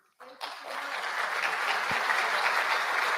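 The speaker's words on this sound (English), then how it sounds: "Once more, a big round of applause, everyone, for Mr. Bai Saboya." Audience applause at a green industrialization policy dialogue, a dense wash of clapping that starts abruptly and holds steady and fairly loud to the end.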